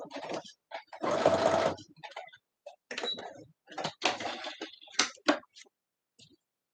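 A sewing machine back stitches fabric in short stop-start bursts of stitching, with pauses between runs; a voice talks briefly between the bursts.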